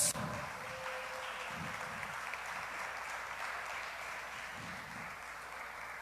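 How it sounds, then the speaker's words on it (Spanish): Church congregation clapping in praise during a vigil service, a steady, fairly faint roll of many hands applauding together for several seconds. "Dele palmas a nuestro Dios."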